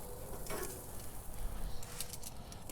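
Eight sausages simmering in tomato sauce on a Weber grill, a soft, steady bubbling sizzle with faint crackles throughout.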